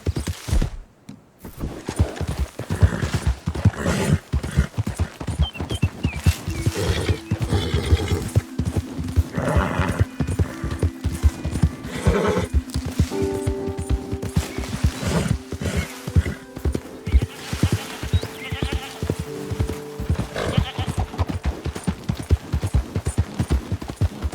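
Galloping horse in the video game Red Dead Redemption 2, with rapid continuous hoofbeats close and loud throughout, occasional snorts and whinnies, and a faint voice urging it on.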